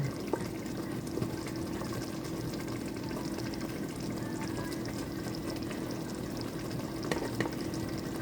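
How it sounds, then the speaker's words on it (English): Water is poured into peanut sauce cooking for chicken, making a steady, faint trickle of liquid that runs continuously with a few small clicks. "And I'm gonna add a little bit of water."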